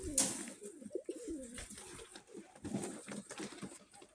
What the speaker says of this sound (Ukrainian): Така переспівша темна вишня. Голубочок.